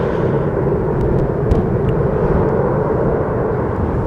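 An airplane taking off from runway 36L at Amsterdam Schiphol Airport, its loud, broad jet engine roar holding steady and close throughout without any voices.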